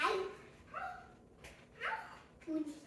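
A new puppy whimpers and gives a few short, high yips and barks, close by and fairly quiet, in bursts separated by brief pauses.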